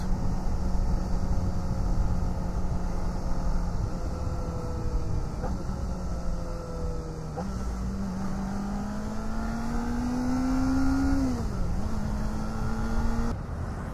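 Kawasaki Ninja ZX25R KRT Edition motorcycle cruising through town at low speed, a steady engine drone with gear changes and pitch rising and dipping as it accelerates and slows, wind noise throughout.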